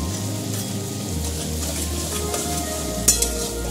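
Spices and ginger-garlic paste sautéed in a pan, a soft continuous sizzle with scraping stir sounds and a brief clink of a utensil near the end, close by and without talk.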